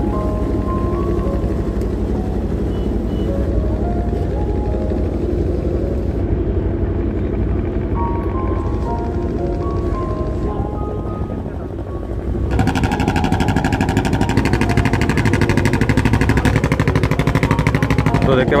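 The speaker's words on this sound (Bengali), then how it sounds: "ছেড়ে দিল নৌকা" A river ferry boat engine crossing toward Nabadwip, a loud steady motor drone and rumble throughout that grows heavier after a brief dip, with voices talking over it.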